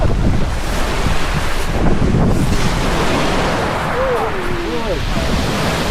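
Ocean waves wash steadily around a zodiac boat on a whale tour, a constant loud roar of surf mixed with heavy wind buffeting the microphone, with faint voices briefly audible near the end.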